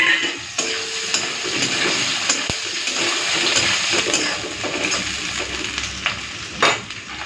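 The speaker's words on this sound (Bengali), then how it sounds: "এখন এই দিয়ে দিচ্ছি পেঁয়াজ কুচি সব একসাথে দিয়েই রান্নাটা করে নেবো" Chopped onions frying in hot oil with a hilsa fish head, a loud continuous sizzle and bubbling with occasional stirring clatter, close up.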